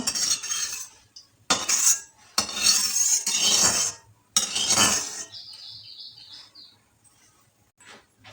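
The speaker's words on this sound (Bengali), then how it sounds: "এখন একটু নাড়িয়ে নেব।" Metal spoon scraping and stirring in a hot pan with white oil while cooking a fish-head and gourd dish, several bursts of clattering separated by pauses, with faint bird chirps afterward.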